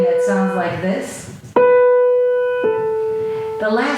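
A piano plays the close of a phrase with a drop and roll touch, ending on a tapered final note. A short melodic figure leads to two sustained, clear notes that ring and fade, with the last struck more softly than the one before.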